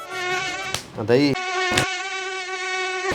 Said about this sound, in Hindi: इस साले कैसा मच्छर हो गए